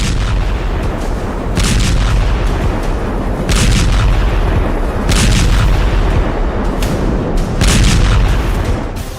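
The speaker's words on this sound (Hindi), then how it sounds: "इस वक्त पुतिन के आदेश पर रूसी सेना ने यूक्रेन पर हमला करने में एरियल गाइडेड बम का जबरदस्त इस्तेमाल करना शुरू कर दिया है" Aerial guided bombs explode in war footage from the Russian attacks on Ukraine, a series of loud, heavy booms spaced about a second or two apart over a constant roaring background, with no talking.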